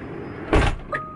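A Tesla locks after the driver steps out, with a short mechanical thunk and whir followed by a brief higher chirp, heard close against low outdoor hum.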